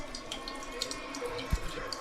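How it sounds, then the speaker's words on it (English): Water runs and trickles as a newly installed toilet flushes and its tank refills, a steady moderate hiss with a few small drips and a low thud. "It's flushing perfect."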